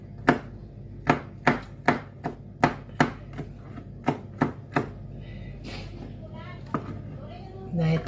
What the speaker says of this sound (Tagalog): Ginayat ng bawang.